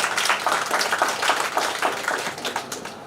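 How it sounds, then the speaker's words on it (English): An audience at a women's awards ceremony claps steadily, a dense patter of many hands at moderate distance that continues evenly for a few seconds with no talking over it. "Please clap for her, ladies and gentlemen."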